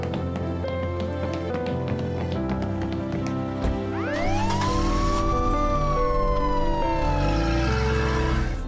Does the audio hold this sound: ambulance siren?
yes